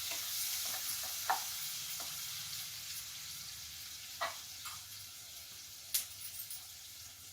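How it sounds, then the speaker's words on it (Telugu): Bitter gourd (karela) slices fry lightly in a pan with no water added, giving a steady soft sizzle broken by a few sharp clicks and scrapes from stirring. "ఇవి కొంచెం వేగాలి లైట్గా"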